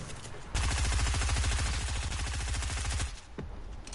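Rapid automatic gunfire from a video game bursts in after a short quiet start, a loud, fast rhythmic stream of shots lasting about two and a half seconds before cutting off, followed by a single faint shot.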